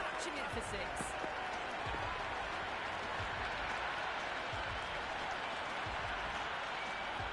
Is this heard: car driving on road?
no